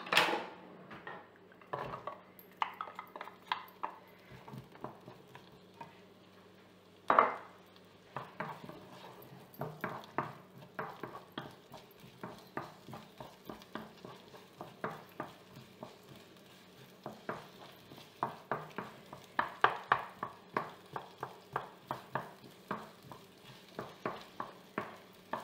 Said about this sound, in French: Ce que je vais faire d'abord, c'est faire revenir mes oignons